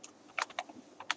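A computer keyboard gets a few quick, soft keystrokes, a handful of close clicks in an uneven burst, with no talking.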